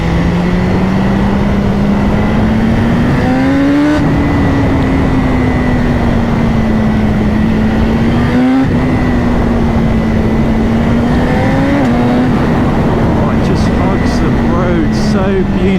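A BMW HP4 sport motorcycle engine revs hard and climbs steadily at speed, its loud, continuous drone rising in pitch, dipping briefly at gear changes, then pulling up again, with wind rush throughout.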